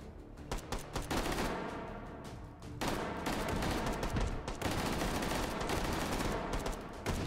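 Rapid automatic gunfire in the VR shooter H3VR, with loud sustained bursts from a belt-fed gun, close and dense, broken by short pauses.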